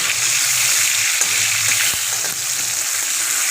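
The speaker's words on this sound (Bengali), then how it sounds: "কাতলা মাছ তো বেশি ভাজবো না হালকা করে একটু ভেজে নেবো" Katla fish fries lightly in a pan of oil, a loud, continuous close sizzle with faint bubbling and no voices.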